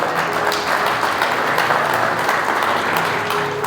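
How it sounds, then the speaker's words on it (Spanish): Church congregation applauding steadily, a dense, even wash of many hands clapping at close range with no talk over it. "Dale un aplauso al Rey de Reyes."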